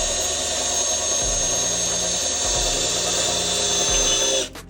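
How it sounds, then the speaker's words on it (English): A power drill whines continuously at high pitch, straining through stainless steel with a few dips in load, then stops abruptly. "That's probably stainless steel that you chose to drill through."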